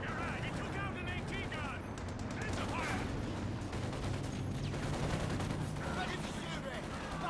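Battle in the video game Company of Heroes 2, with dense gunfire and rattling shots including sniper fire, rolling continuously beneath a commentator's talk.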